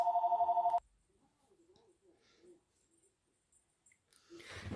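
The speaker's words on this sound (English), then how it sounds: "Oh, my phone's ringing." A phone rings steadily for under a second, fairly close, then cuts off, leaving quiet breathing and small handling noises before a rustle at the end.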